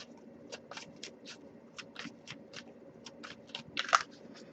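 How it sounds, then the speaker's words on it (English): A deck of tarot cards is shuffled close by in a quiet room, with a quick series of soft, crisp flicks and riffles at an irregular pace. "I'll give it a few more shuffles"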